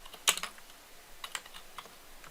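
A few quick, faint clicks on a computer keyboard, a sharp pair of keystrokes followed by lighter scattered taps, as a Ctrl+C, Ctrl+V copy and paste is typed.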